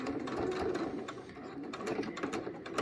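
Sewing machine back-stitching along the edge of bias tape on a fabric face mask, a steady, close, rapid mechanical chatter that runs continuously for about three seconds with no talking.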